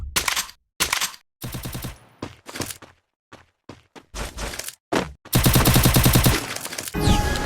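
Gunfire in the Free Fire battle-royale game, with rapid automatic bursts and single shots in uneven clusters, loud and close, separated by short quiet gaps and ending in a long sustained volley.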